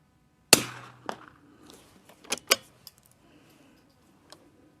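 Rimfire rifle shots from a 52D on a range, firing Ely 10X ammunition: one sharp near crack followed by a few quieter ticks and two more firm pops, spaced irregularly with quiet gaps between.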